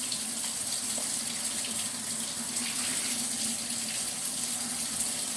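Tap water runs steadily into a sink while steak is washed, a continuous splashing hiss, close and unbroken throughout.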